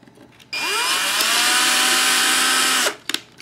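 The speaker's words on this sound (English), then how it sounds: "just run that drill into each one of those nuts and clean up the glue" A power drill driving a 2mm tap into nuts spins up with a rising whine, runs steadily for a couple of seconds, then winds down, followed by a few small clicks.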